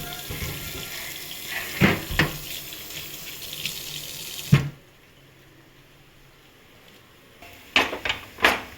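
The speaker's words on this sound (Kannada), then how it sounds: "ರಿವರ್ಸಲ್ಲಿ ಅದಕ್ಕೆ ನೀರು ಬಿಡಬೇಕು ಕೂಲ್ ಮಾಡೋಕ್ಕೆ" Water pours and sizzles steadily onto a hot roti griddle to cool it, a loud continuous hiss that stops abruptly, followed by quiet and a few clattering knocks.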